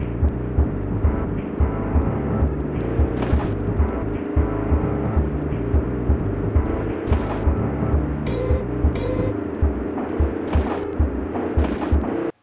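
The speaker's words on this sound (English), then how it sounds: "And the music just drones on." Droning background music from the SNES racing game Radical Psycho Machine Racing, a dense, monotonous low synth hum with a repeating pulsing beat and brief higher tones, heard alone at a steady level.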